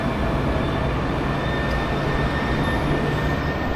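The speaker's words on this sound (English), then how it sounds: "The city has a very good transport network, including this new modern tram system" Modern tram running through Caen, France: a steady, loud rumble of rolling rail wheels and motor hum that holds throughout, with a faint tonal whine over it and no talking.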